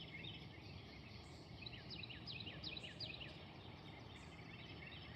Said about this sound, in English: Listen to the rhythm of the singing birds.